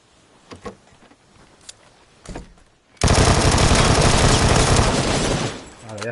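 Gunfire in PUBG: a few scattered distant shots and thumps, then a sudden loud sustained burst of rapid automatic fire lasting several seconds before tapering off.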